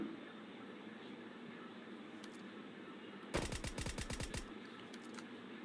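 Rapid burst of automatic gunfire in a shooter video game, a loud run of about a dozen sharp shots over steady background noise, with faint clicks before and after.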